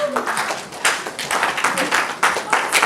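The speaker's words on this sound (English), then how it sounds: "we welcome Dr. Robert Pepradinfi with a clap offering" An audience claps to welcome a speaker: brief, uneven applause in a hall, with some voices mixed in.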